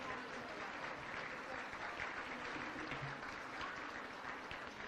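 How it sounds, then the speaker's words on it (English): Steady applause from a crowd at a charity gala dinner fills the whole stretch, an even wash of clapping at moderate distance with no pauses. "Let's give them all a round of applause."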